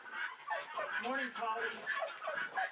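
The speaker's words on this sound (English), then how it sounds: "I have 4 guinea hens" Four guinea hens outdoors call in a rapid, repeated chattering chorus, fairly faint but continuous, with no talking.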